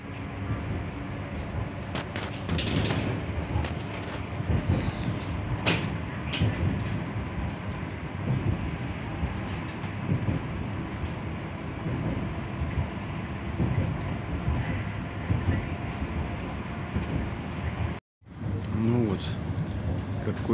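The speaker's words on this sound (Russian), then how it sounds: "Оттуда сейчас придет электричка до Красноярска." An electric commuter train to Krasnoyarsk rumbles and clatters steadily nearby as it arrives, with passing rail noise building and fading, and a voice speaking intermittently over it.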